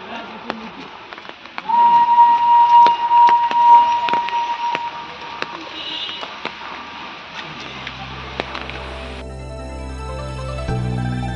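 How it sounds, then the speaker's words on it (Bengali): The Darjeeling toy train gives a thin, distant whistle near the Ghum hill station for a couple of seconds over quiet outdoor ambience, and music takes over afterwards. "ওদিকে টয় ট্রেন আওয়াজ দিচ্ছে।"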